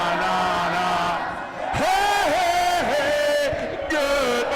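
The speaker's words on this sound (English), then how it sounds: "the entire crowd chanting that famous song" A wrestling crowd at a Rocky Mountain Pro event chants a famous song in unison, with loud, sustained, sliding group voices that swell and dip across the arena.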